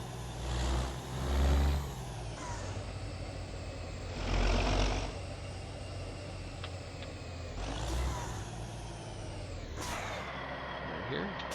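A simulated International 9900i truck fitted with a Caterpillar engine in a truck game mod, its diesel drone steady with several swells of revving and air-brake hiss, while someone talks over it throughout.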